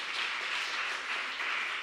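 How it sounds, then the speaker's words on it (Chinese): Steady, even applause from a church congregation welcoming a visitor, moderately soft and continuous throughout with no voices. "拍手欢迎她，温岚姐妹。"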